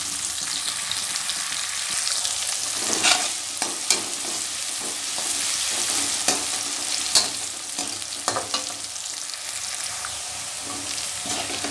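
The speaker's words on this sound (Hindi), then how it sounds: "अब हम इसमें पहले ऑनियन डालेंगे, इसको हल्का गोल्डन फ्राई करेंगे।" Onions frying in hot oil until lightly golden, a steady close sizzle and crackle with intermittent scraping stirs of a spatula in the pan, no voices.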